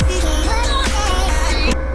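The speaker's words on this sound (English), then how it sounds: "And then there's a little vocal chop here," A short vocal chop sample cut from a track and arranged in FL Studio, with pitched chopped vocal fragments stuttering rhythmically over a steady low bass pulse, loud and continuous for a couple of seconds.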